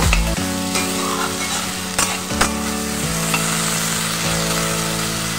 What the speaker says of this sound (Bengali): দিয়ে আবার আমি ভালো করে সবজির সঙ্গে ভেজে নেব